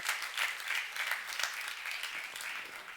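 Clapping from a church congregation during a youth group sermon, a brief, fairly faint patter of applause lasting a few seconds.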